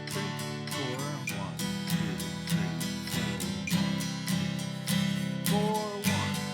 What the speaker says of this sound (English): So this strum pattern with the metronome will sound like this